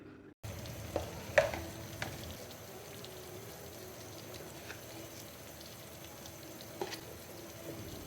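Sun-dried raw mango pieces being stirred with salt and spices for a pickle, giving a steady soft scraping rustle with a few sharper clinks near the start and again late on, alone with no talk.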